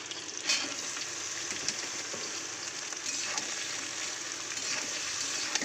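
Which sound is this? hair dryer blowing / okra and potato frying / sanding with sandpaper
okra and potato frying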